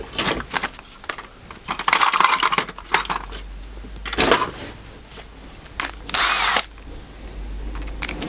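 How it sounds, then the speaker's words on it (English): A power drill countersinks screw holes in wood in a woodworking shop, with several short, loud bursts of whirring and grinding separated by brief pauses. "I'm just going to countersink those"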